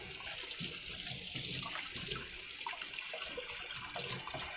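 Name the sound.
rinsing a vessel under a running tap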